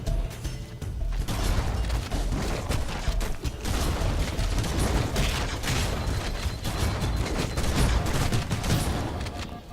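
Sustained gunfire from a Halo CE firefight against Flood enemies, dense and continuous bursts of shots mixed with mechanical clatter across the whole stretch, loud and close with no pauses.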